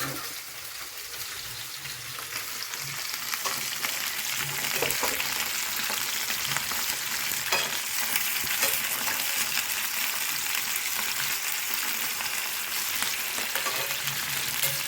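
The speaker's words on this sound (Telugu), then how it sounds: "ఫిష్ ఫ్రై అయితే ఇట్లా చేస్తాం మేము. డీప్ ఫ్రై చేయండి." Fish pieces deep frying in hot oil give a dense, steady sizzle and crackle, close and even in loudness from start to finish, with no voices over it.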